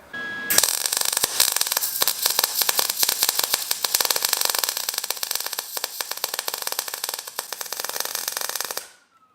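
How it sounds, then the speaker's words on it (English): Welding on a budget turbo LS engine build, a loud continuous crackling, hissing buzz that starts abruptly, runs steadily for about eight seconds with fine rapid crackle, then cuts off; no talking. "I'm gonna weld the other side just in case it does warp a little bit"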